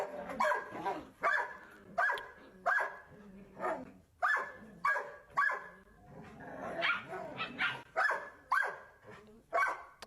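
Adult dogs with a puppy bark in a rapid, repeated series of sharp, fairly close barks, about a dozen bursts in quick rhythm with brief gaps and a few softer yips between them.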